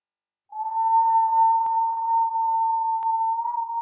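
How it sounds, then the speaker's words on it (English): A long, steady whistling exhale from a person doing a breathing exercise, holding one thin, pure tone for about three seconds after a brief silence, close and fairly quiet. "And you're almost whistling as you exhale."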